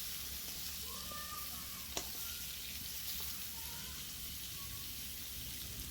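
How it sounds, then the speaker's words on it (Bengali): Rohu fish curry with pointed gourd and potato fries in a pan, a steady close hiss and crackle of hot oil with a couple of faint clinks of stirring. "এবারে সব কিছু ভালো করে ভেজে নেব"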